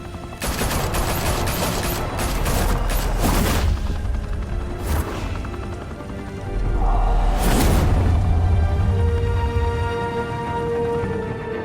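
Loud gunfire bursts in a Batman video game, set at a high-rise mafia club in downtown Gotham, with rapid volleys, heavy booms and whooshing impacts filling the whole stretch and no talk over it.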